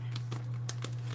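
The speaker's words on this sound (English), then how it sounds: "I got this big old giant plastic bag." Big plastic bag of flour crinkles and rustles in several short bursts, close by in a kitchen, with a steady low hum underneath.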